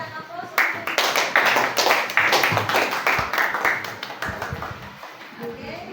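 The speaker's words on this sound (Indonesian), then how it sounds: "berikan aplaus" Group applause in a classroom presentation session, a burst of many hands clapping close and lively for several seconds before thinning out, with voices mixed in.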